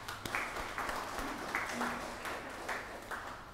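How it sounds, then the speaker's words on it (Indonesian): A church congregation at a child baptism service applauds, a dense patter of clapping that holds evenly throughout, heard from a middle distance in a reverberant hall, with no talking over it. "Kita beri aplaus Bapak Ibu."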